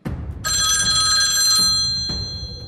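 A telephone bell rings loudly in a steady, continuous electronic trill that fades slightly toward the end, set against a low background murmur.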